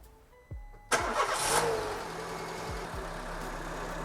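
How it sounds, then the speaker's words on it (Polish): A car engine cranks and starts during an air-conditioning service test in a workshop, catching with a sharp burst and then settling into a steady idle close by, with no voices. "włączamy silnik"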